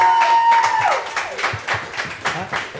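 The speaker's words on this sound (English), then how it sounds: "Please give them a round of applause." An audience claps for a state champion girls bowling team, with scattered, uneven hand claps of moderate loudness that stay fairly close. A faint tone fades out early in the clip.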